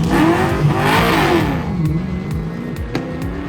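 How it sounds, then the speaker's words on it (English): A 1966 Plymouth Valiant rally car accelerates hard at close range during a stage rally. The engine note rises and falls as it stumbles momentarily from fuel starvation, and sharp knocks and pops come as it runs on. "the car keeps laying over momentarily, and that's because fuel is coming away from the fuel pump on acceleration"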